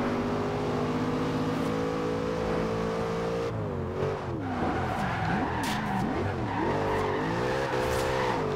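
Car drifting in the racing game Forza Horizon 2, a V8 that revs past 7,000 RPM: a steady high engine whine that turns into wavering squeals and sliding tire screech, loud and up close, with no talk.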